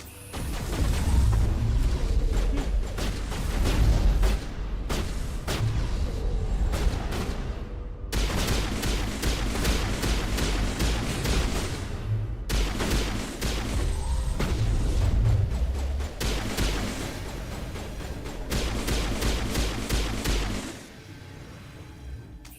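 Heavy gunfire in a Mass Effect lab fight, with dense sustained volleys of shots and booming impacts lasting almost continuously before dropping off near the end.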